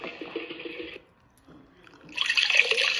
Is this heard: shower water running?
yes